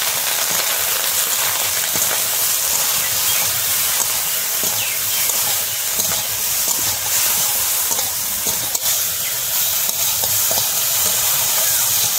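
Sliced okra sizzles and fries steadily in a pan for Bengali bhindi with mustard paste, a loud continuous hiss with occasional stirring, no talk.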